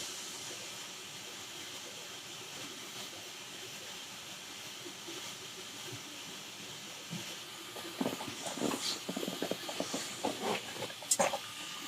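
A fiber laser engraver marks a calibration square, a soft steady hiss and hum at first, then a run of rapid crackling, ticking bursts from the marking head near the end, fairly quiet.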